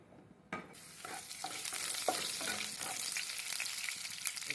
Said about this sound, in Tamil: எண்ணெய் காஞ்ச பிறகு கொஞ்சம் வெந்தயம் போட்டுக்கலாம்